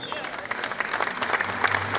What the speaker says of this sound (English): de nous rejoindre également sous vos applaudissements